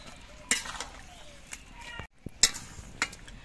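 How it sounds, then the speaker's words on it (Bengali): Spinach and coriander paste being stirred into chicken in a pan, with close scraping clinks of a utensil against the pan in irregular strokes over a soft sizzle. "এবার এগুলো নেড়ে চেড়ে মিশিয়ে নিয়ে বেশ ভালো করে কষিয়ে নিতে হবে।"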